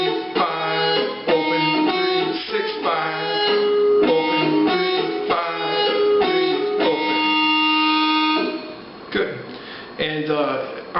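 An electric guitar plays a riff as a close, steady sequence of plucked and held notes, with one longer sustained tone before the phrase resumes.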